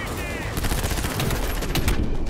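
Rapid automatic gunfire in Cyberpunk 2077, a fast stream of loud close shots fired in bursts with a heavy low thump, briefly layered with game sound effects.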